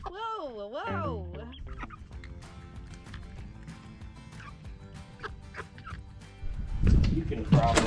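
Poultry, likely a turkey or chicken, gobbles and clucks indoors during demolition work, a loud warbling call at the start followed by scattered clucks and clattering, with rising noise toward the end.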